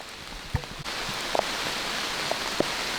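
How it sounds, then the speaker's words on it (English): Rain falls outdoors, a steady broadband patter and hiss with a few louder drops and taps scattered across it, close and continuous, with no voices. "rain's picking up, so I'm gonna head back into the house"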